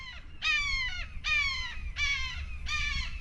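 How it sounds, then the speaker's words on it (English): Outdoors by a construction site, a hawk calls in four loud, harmonic, slightly descending cries spaced about a second apart, with a low outdoor rumble underneath. "Listen, hear that hawk?"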